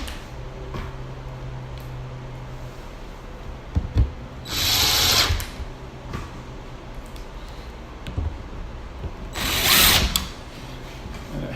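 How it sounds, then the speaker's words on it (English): Screw gun with a magnetic tip driving 5/8-inch screws into cabinet drawer slides: two loud buzzing bursts around a second long, several seconds apart, with quieter handling clicks and clatter in between. "Helps to do this with a magnetic tip on your screw gun."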